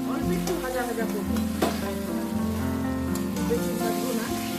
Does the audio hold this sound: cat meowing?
no